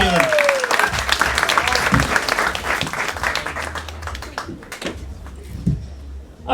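A comedy club crowd applauds a comedian named Caitlin, loud sustained clapping with whoops that thins out toward the end, with a voice briefly heard amid the noise.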